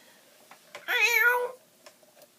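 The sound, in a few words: cat meowing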